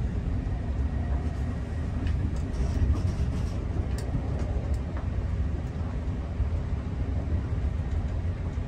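Amtrak Cardinal passenger train riding northbound on the tracks near Dolton, Illinois, heard from aboard as a steady low rumble and rolling hum with faint clanks, continuous and fairly loud throughout.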